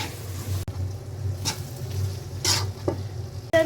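Egg frying in a pan with noodle spice mix, a steady close sizzle with stirring scrapes and a few louder bursts of spatter, no talk.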